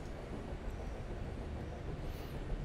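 A train ride in the game Charnel House Trilogy gives a steady low rumble and rattle of a moving carriage. The interior ambience is continuous and fairly quiet, with no voices.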